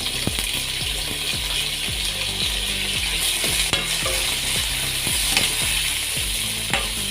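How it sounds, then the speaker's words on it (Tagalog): Potato and carrot sautéing in a pan with garlic and onion give a steady, close sizzle, broken by a regular rhythm of utensil scrapes and clicks as the vegetables are stirred. "Igisa natin yung potato at carrot."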